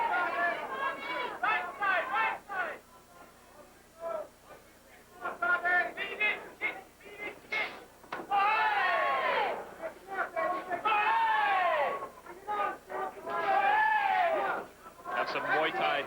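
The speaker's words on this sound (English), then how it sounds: "When a good kick lands, they cheer out" Muay Thai fight crowd at a televised bout, repeated surges of shouting and cheering voices rising and falling in bursts over the arena's background hubbub.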